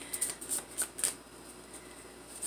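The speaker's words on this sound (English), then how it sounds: "Nice shuffles there." A deck of tarot cards is shuffled by hand in a few quick riffling bursts of crisp, papery flutters, close and clear, then settles into near quiet.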